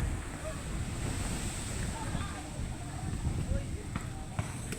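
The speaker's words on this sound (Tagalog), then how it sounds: "natin yung hampas ng alon, tas diretso dito yung dagat" High-tide sea waves surge and wash steadily against a shoreline fence, a continuous rushing roar with strong wind buffeting the microphone throughout.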